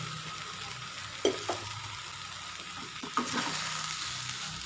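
A spatula stirs rice in a pan for a South Indian rice dish, giving a couple of soft scraping knocks over a steady, low sizzle. The sound is fairly quiet and close.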